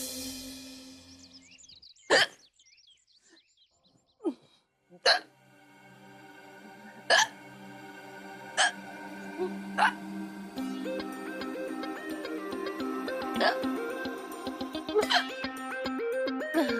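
A woman in a Hindi TV drama hiccups repeatedly, sharp isolated jolts spaced a second or two apart, close and clear, with music rising underneath and a few quicker hiccups near the end.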